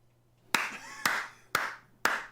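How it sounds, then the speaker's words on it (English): Four loud, slow hand claps ring out at even half-second intervals, with quiet between them and no voices. "Ladies and gentlemen, round of applause."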